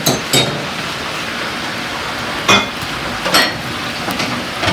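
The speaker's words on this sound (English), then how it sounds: "So just sauteing those onions so they're nice and translucent." Onions saute in a pan with a steady close sizzle, broken by a few sharp clinks of a utensil against the metal.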